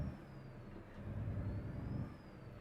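Heavy truck towing a long mobile crane trailer on the road, a steady low engine rumble with a faint whine running throughout, swelling slightly louder toward the middle and then holding.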